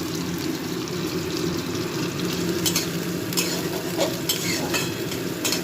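Onion frying in oil with black cumin and dried chilli, a steady sizzle with scraping stir strokes and occasional clinks, close and continuous with no talking.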